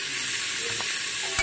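Bay leaf, cumin seeds, raisins and cashews frying in ghee for paneer pulao, giving a steady soft sizzle with faint stirring clicks, close and alone, no talking.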